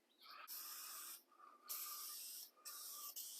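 Duplicolor medium gray spray paint hisses from an aerosol can in three long bursts separated by short pauses, close and crisp, with no talking.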